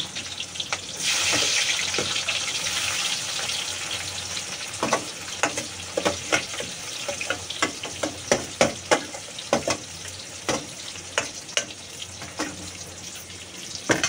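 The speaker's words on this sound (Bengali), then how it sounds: "তেলের মধ্যে না মশলাগুলো দিয়ে দেবো একে একে" Spices added one by one into hot oil for a minced-meat ghugni, sizzling and frying steadily, with a string of sharp crackles and pops as each addition hits the pan.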